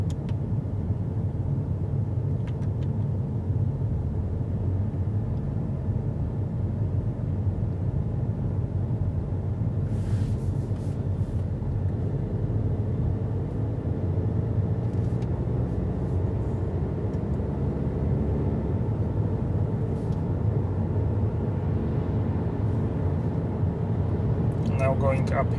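A car is driven in sport mode, its steady engine and road hum running underneath continuous talk from someone inside.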